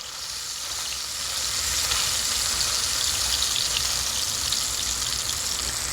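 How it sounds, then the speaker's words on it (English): Half-inch top round steaks searing in a hot pan give off a loud, continuous sizzle and hiss that swells slightly after the first second and then holds steady, with no talking. "So it is partially searing at this point."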